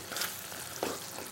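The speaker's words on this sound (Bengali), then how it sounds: "অল্প একটু জল এতে আমি অ্যাড করব" Water hits a pan of Schezwan chicken sauce with tomato sauce, setting off a soft, steady sizzle with a couple of brief louder hissing bursts.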